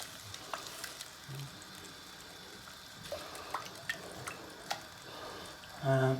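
Tinned coconut milk poured into a hot cooking pan, a low quiet sizzle with soft scattered drips and faint clicks, ending in a louder thump near the close, with no talking.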